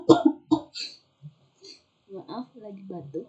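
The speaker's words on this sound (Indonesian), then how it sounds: "Maaf, lagi batuk." A few sharp coughs burst out close by, followed by brief speech.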